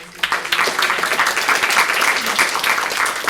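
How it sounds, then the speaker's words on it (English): Audience applause at a student government senate meeting, a moderate, somewhat distant patter of many hands clapping that stays fairly even throughout. "So please join me in giving them a round of applause."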